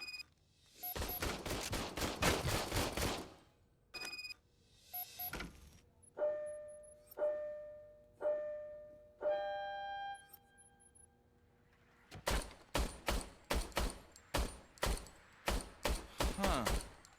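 Pistol gunfire in RoboCop: Rogue City from an old, malfunctioning service weapon: loud rapid bursts of shots at the start, then sparse single reports and electronic tones, then another fast volley of sharp cracks.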